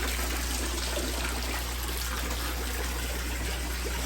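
Water flows steadily through a bell siphon pipe in a crayfish pond, a continuous close trickling and gurgling under a constant low hum of a pump.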